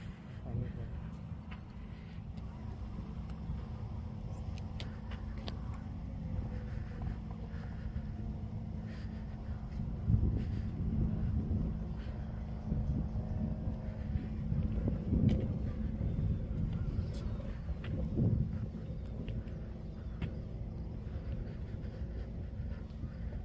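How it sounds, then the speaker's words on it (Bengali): A low, steady engine of a large speedboat on Alum Creek lake, Columbus, drones throughout under light wind noise, fairly distant, with soft voices faintly in the background. "এটা হচ্ছে বড় স্পিড বোট"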